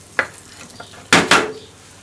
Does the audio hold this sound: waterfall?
no